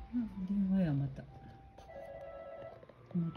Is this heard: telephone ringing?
yes